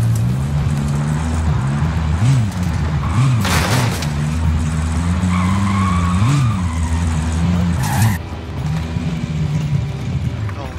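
Car engine revving with repeated tire skids and squeals in the Warzone video game, loud and continuous, with brief sharp broadband bursts around the middle and near the end.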